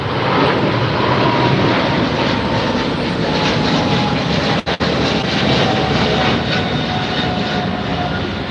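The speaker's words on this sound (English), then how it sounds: "ITA jet has made the turn and will be making its run up the runway in just a second." An ITA Airways jet airliner roars down the runway at LAX on its takeoff run, a loud, steady broadband engine rumble and whine that fills the scene, with one brief dropout partway through.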